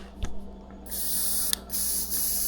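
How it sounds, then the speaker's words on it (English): An airbrush hisses out a steady spray of lacquer thinner, pausing briefly once before resuming, with a soft tap at the start. "I always like to spray a little bit of lacquer thinner"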